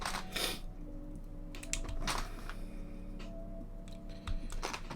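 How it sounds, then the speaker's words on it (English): Keycaps pressed onto a TX60 HHKB mechanical keyboard with an antique copper case give close, sharp clicks and clacks in irregular bursts over a faint background hum. "Getting there with the keycaps now, guys."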